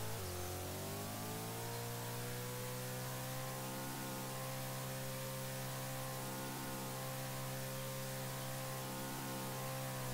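A car is driven in a Roblox video game. Its engine gives a steady, droning hum with layered harmonic tones that rise slightly at the start and then hold evenly over faint static, with no voices.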